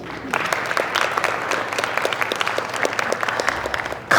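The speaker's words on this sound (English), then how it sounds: "Let's appreciate it and give a round of applause." Audience applause at a motivational seminar, a dense steady wash of many hands clapping throughout, fairly loud and continuous, with a brief louder burst at the very end.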